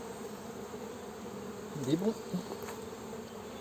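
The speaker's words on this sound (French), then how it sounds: "Donc là ça fait sortir un peu les abeilles" Honeybees pour out of a hive being shaken during a July check on newly mated queens, giving a steady, fairly faint buzzing drone with a brief swell near the middle and a short spoken phrase.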